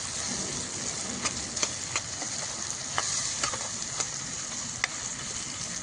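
Ginger sizzles steadily in hot oil in a pan while being stirred, with a continuous frying hiss broken by occasional spoon scrapes and clinks, close and moderately loud, with no voices.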